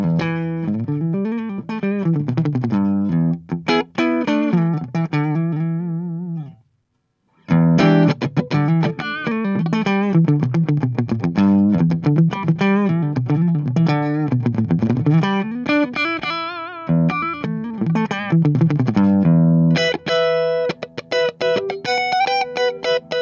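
An electric guitar plays a run of clean, picked notes through a TC Electronic Plethora X5 effects pedal with a compressor, with a short pause partway through before the playing resumes.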